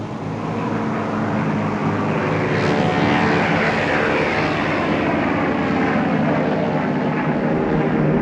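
Japanese warplanes, propeller aircraft, attack Pearl Harbor, their engines a loud, continuous droning roar with a faint rising whine, steady and dense across the whole stretch with no voices.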